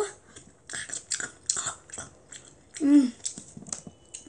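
A child eats Chapagetti noodles with a spoon, with soft chewing and slurping bites close to the microphone and a brief louder mouthful midway.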